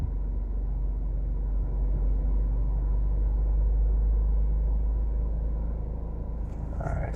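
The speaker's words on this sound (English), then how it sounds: "I'm gonna wait for this truck to pass because he's going over the bridge." A truck rolls over a bridge with a constant low rumble that stays loud and even throughout, and a faint higher rattle appears near the end.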